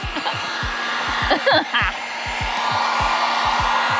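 Heat gun warming an RV decal, a steady blowing whir under a rapid, regular low ticking pulse, with a few brief voice sounds like soft chuckles partway through.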